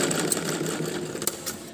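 A sewing machine runs close up while stitching a child's smocking frock, giving a continuous rapid mechanical hum with light clicking ticks and no speech.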